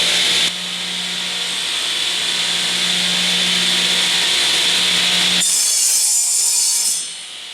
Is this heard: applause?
no